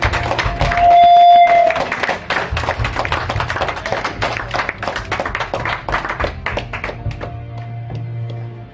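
A church congregation at an evangelical service claps along in a steady rhythm for several seconds while music plays beneath, the clapping fading toward the end with a sustained tone.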